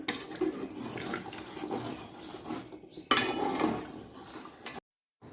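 Biryani ingredients being stirred together in a metal pot, with utensil scraping and clinking against the pot in a steady, moderately loud rhythm, a brief pause, then more stirring before it stops.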